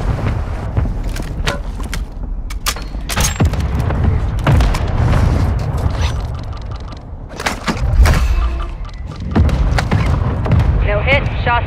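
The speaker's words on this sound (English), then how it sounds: "Mortar strike inbound." Mortar strike explosions rumble in Warzone 2.0 as repeated heavy booms and thuds land among gunfire and radio-style voices, with loud sustained rumbling throughout.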